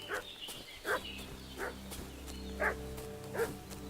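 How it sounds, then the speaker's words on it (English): Five spaced dog barks ring out over a low, steady ambient hum in the medieval video game Kingdom Come: Deliverance II, each bark short and moderately distant. "Sounds like mutt."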